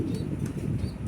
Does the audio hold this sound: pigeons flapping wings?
yes